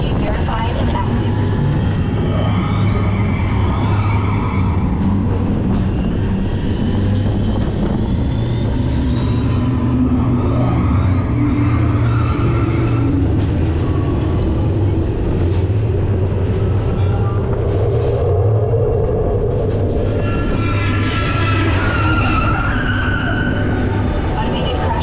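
Test Track ride vehicle at EPCOT rolling steadily under automated driving, a constant loud rumble of motor and wheel noise with whooshing sweeps passing through and an onboard voice announcing over it.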